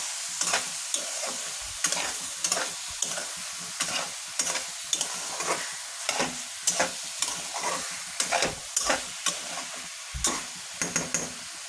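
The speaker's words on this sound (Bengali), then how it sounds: "লাউটা ভালোভাবে কষিয়ে নিই" Chopped bottle gourd and tomato stir-fried in a pan, a spatula scraping and tossing in a regular rhythm of repeated strokes over a continuous sizzle, close and without voices.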